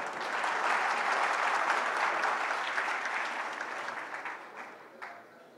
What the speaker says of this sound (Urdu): اس کے لیے تالیاں بجا لیں